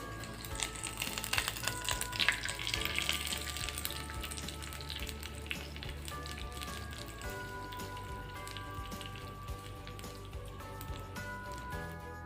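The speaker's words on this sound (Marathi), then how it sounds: "त्यानंतर यामध्ये 2 लाल मिरच्या टाकून घ्यायच्या आहे. थोडेसे तीळ टाकायचे आहेत." Hot oil tadka with two red chilies and sesame seeds crackles and sizzles steadily in the pan, a dense patter of fine pops like rain that fades a little over time, close and moderately quiet.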